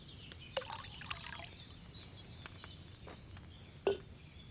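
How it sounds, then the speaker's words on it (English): Wine poured from a pitcher into a cauldron while brewing in the medieval game Kingdom Come: Deliverance II, a soft close trickle and splash with a few brief clinks, including a sharper knock near the end. "First, you have to pour the right base into the cauldron"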